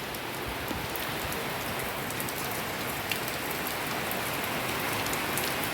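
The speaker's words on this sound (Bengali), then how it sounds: "আজকেও কিন্তু ঝড় বৃষ্টি হচ্ছে, আর মেঘ দেখো অন্ধকার করে এসছে।" Steady heavy rain pours down during a dark thunderstorm, a dense, even hiss of drops on surfaces that continues without a break and with no voices.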